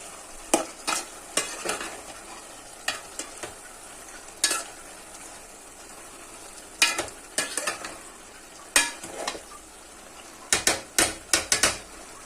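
Chicken frying in a pan while being stirred, a low continuous sizzle punctuated by repeated sharp scrapes and knocks of the spatula on the metal, some in quick clusters.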